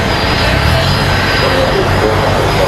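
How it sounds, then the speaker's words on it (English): An airliner parked at the gate at Raleigh-Durham International Airport gives off a loud, continuous engine drone with a steady, even roar throughout. "this is the last plane of the show"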